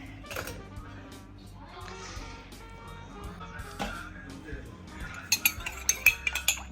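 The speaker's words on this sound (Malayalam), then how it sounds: "റൈസ് വീണ്ടും മുകളിലോട്ട് ഇടുവാണ്." Cooked rice is layered back on top in a dum biryani pot: soft scooping and shuffling, then a quick run of metal spoon clinks against the vessel near the end, with a voice talking in the background.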